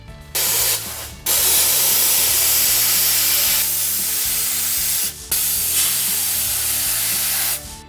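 A jewelry steam cleaner blasts a polished chain with loud, close hissing steam in long sustained bursts, broken by brief pauses, over a low mechanical hum.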